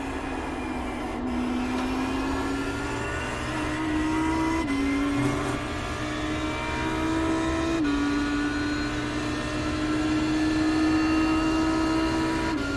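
Audi R8 race car at the Nurburgring 24 Hours, its engine droning steadily at close range with upshifts coming early to save fuel, the pitch stepping up and dropping at each gear change, no talk.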